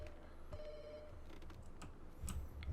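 A telephone rings in the horror video game From the Rain, a faint repeating electronic tone heard at a distance with soft clicks and shuffling noise around it, and no voices over it.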